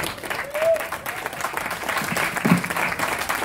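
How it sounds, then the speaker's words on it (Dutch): Steady applause from a cabaret audience welcoming a performer named Larry, moderately loud clapping lasting a few seconds with a brief whistle near the start. "Geef een applaus voor Larry."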